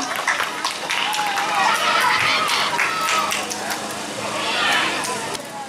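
An audience at an Islamic children's quiz competition applauds after the semifinal result, a steady rush of many hands clapping at moderate loudness, mixed with crowd murmur and voices throughout.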